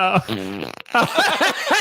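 A fart sound effect from an Alexa smart speaker blurts out briefly, followed by a synthetic voice speaking clearly and close.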